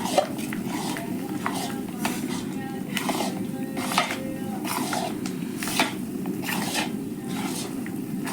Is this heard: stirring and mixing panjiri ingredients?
yes